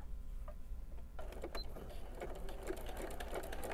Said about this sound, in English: we're going to stitch around, keeping all three layers lined up on the side